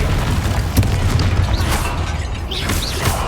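The Confringo explosion spell in the Hogwarts Legacy video game: a heavy booming blast with crackling bursts and whooshing magical sweeps, loud and close over a rumbling game soundscape.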